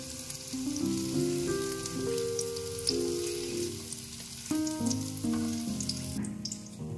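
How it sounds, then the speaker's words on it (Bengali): Paneer cubes sizzle in a pan of hot oil for matar paneer, a continuous crackling hiss at moderate loudness with a soft tonal melody running underneath. "পনির আমার ভাজা হয়ে গেছে, লাল হয়ে গেছে দুদিকেই"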